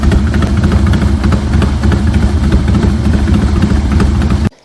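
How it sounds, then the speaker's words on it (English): A Triumph Street Twin motorcycle with dual Vance & Hines pipes rumbles steadily at idle, loud and close, with a low throbbing chug that cuts off abruptly at the end. "It's going to feel more Harley-like in the way that it starts and the sound of the engine"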